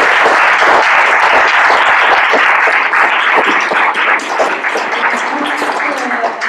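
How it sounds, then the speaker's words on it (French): Loud, sustained applause from an audience at a French conference on carbon accounting, dense clapping continuing steadily with some voices mixed in beneath. "On peut l'applaudir."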